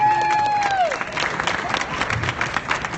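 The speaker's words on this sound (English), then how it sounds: "Big round of applause for doing that, please." Audience applause and crowd noise fill a hall at a Breakbulk Americas 2015 event in Houston, a steady wash of clapping that swells in after a brief tone and continues loud and dense throughout.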